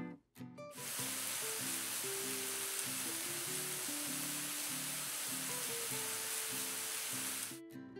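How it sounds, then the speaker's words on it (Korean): Chopped onion and garlic sauté in melted butter in a pan for a homemade hamburger sauce, giving a steady, close sizzle with faint rhythmic scraping, with no talk. "다진 양파, 다진 마늘을 넣고 볶아주다가 양파가 살짝 투명해지면 유기농 설탕을 넣고 카라멜라이징을 시켜줍니다."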